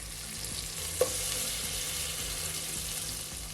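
Just over one and a half tablespoons of unsalted butter melts in a pot for mac and cheese, giving a soft continuous sizzle with one brief clink partway through.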